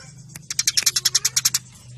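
House sparrow (burung gereja) giving a fighting call, a rapid close run of about a dozen sharp, bright chirps in even rhythm, over a faint low hum.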